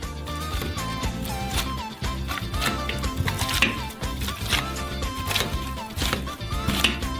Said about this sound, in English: And with the help of a potato masher, we knead the potatoes.